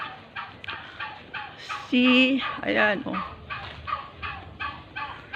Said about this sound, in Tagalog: O, ang ingay ng pabo ng kapitbahay.